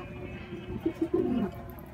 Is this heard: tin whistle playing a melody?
no